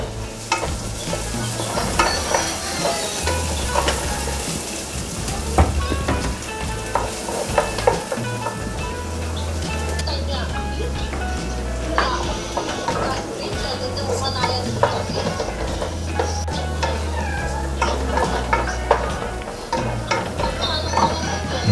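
Garlic and onion sizzle steadily in a hot pan for chocolate meat (dinuguan), with stirring scrapes and clinks throughout and a low hum underneath, continuous and fairly close.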